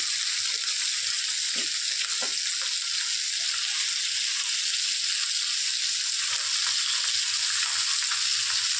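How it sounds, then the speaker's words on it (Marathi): Rohu fish pieces frying in mustard oil as they are flipped to cook the other side, with a loud, steady, close sizzle, some soft scrapes early on, and no one talking. "आता दुसऱ्या बाजूने फ्राय करून घेऊया उलटून घेते मी"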